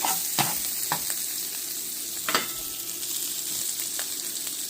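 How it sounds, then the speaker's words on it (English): Andouille sausages fry in a pan with a steady, bright sizzle. Several sharp scrapes and knocks of a utensil pushing them about sound close and loud above the continuous crackle. "when you got some nice color going on, you should push the sausages to one side"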